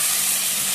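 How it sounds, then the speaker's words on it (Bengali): Water from the spice bowl poured into frying spice paste for a cabbage and egg dhokar dalna, giving a loud, steady, close sizzle that fills the whole moment. "দিচ্ছি মশলা বাটি দেওয়া জলটা, যাতে মশলাটা পুড়ে না যায়।"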